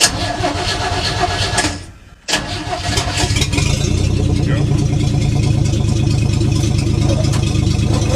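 A Hudson Hornet engine starts with a push-button starter, a brief cranking burst followed by a steady loud idle rumble that holds through the rest of the clip, with a voice speaking over it.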